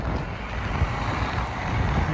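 Strong wind roars and buffets the microphone in a continuous, loud, rumbling rush that never lets up, with no one speaking.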